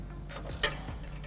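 Ratchet with a 10mm socket tightening bumper bolts on a 2017-2020 Ford F-150 Raptor during a fog light install, a few quiet close clicks and one sharper metallic snap, faint and brief.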